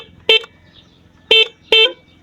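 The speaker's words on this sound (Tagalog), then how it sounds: "Ito yung stock horn guys." A motorcycle's stock horn gives three short, bright honks, one and then two close together, loud and near over a faint engine idle.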